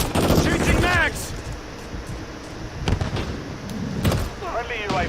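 Gunfire in a multiplayer shooter video game: sharp bursts of shots crack out over a low game background, with voiced callouts heard between them.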